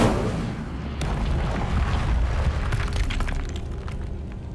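An Incendio fire spell cast in Hogwarts Legacy gives a loud, roaring whoosh with a sharp crackling burst, sustained and booming for several seconds.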